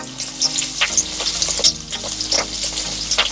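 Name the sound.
onion, tomato, garlic and ginger frying in coconut oil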